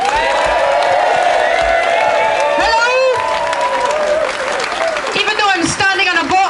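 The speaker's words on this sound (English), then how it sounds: "I want you to clap and welcome and cheer every performer who comes up here" A stand-up comedy audience at a 2013 demonstration claps and cheers to welcome a comedian, loud sustained applause with whoops and shouts throughout, while a voice carries on over the crowd.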